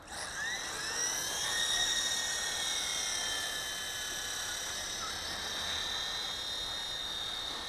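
A WLtoys V915 Seeker flybar RC helicopter flies nearby, its high-pitched electric motor and rotor whine holding steady with slight pitch shifts as it maneuvers, alone without talk.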